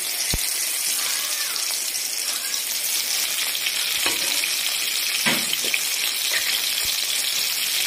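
Spices fry in hot oil for Odia dalma, giving a dense, steady sizzle close up with a few sharp pops and utensil clinks scattered through it.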